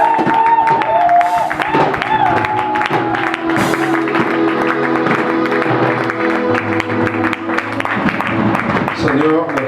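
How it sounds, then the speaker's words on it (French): A church congregation at an evening worship service cheers and applauds to acclaim the Lord, with loud continuous crowd noise and clapping mixed with singing or music throughout. "Acclame bien le Seigneur."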